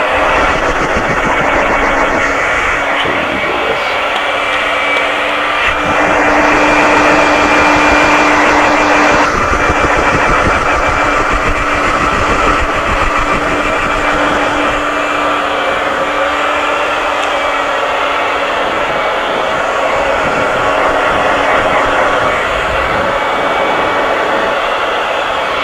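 Hair dryer blows loose cut hair out of curly hair after a scissor-over-comb haircut, a loud steady close whoosh running throughout with slight shifts in tone, no voices.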